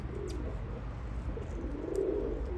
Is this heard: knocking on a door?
no